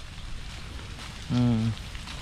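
Steady rain hisses across the whole clip, with a short tonal sound rising briefly above it midway.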